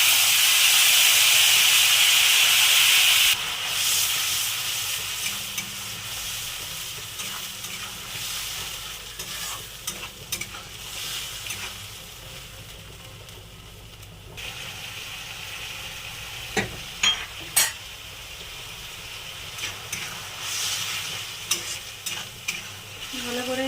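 A ground paste of tomato, green chilli and onion fries in a pan with cumin for prawn malai curry. A strong hiss opens the sound and then settles into a softer sizzle broken by spoon scrapes and clicks, with no one speaking.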